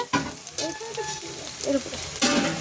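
Onions frying in a pan, a close sizzle with scraping stirring sounds and brief bursts of louder crackle, with a voice speaking over it.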